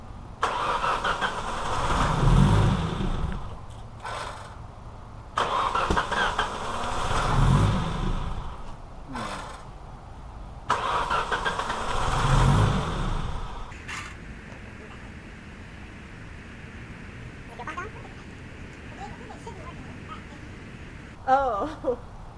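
A rally car engine cranks and catches in three bursts of rough revving, then settles into a quieter idle with faint people talking nearby.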